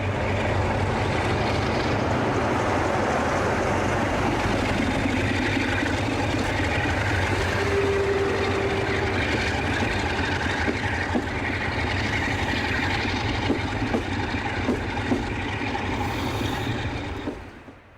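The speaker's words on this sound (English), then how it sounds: "This Class 47 comes to the rescue of a failed HST at Newton Abbot." A Class 47 diesel locomotive hauling a failed HST at Newton Abbot in 2001 gives a steady, loud engine drone with a low rumble throughout, which fades away at the very end.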